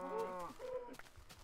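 A cow in a video game lets out a drawn-out, groaning moo that trails off, then shorter game sounds follow, quiet and with no one speaking.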